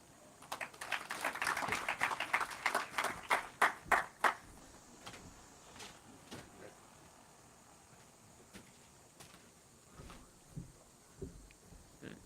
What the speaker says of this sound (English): another round of applause for Mr. David Onen